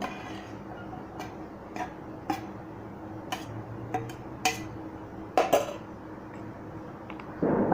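Chopped vegetables for a bread pizza being tossed together in a bowl, heard as scattered light ticks and clinks of a spoon against the dish, sharper knocks near the end, close and fairly quiet with no voice.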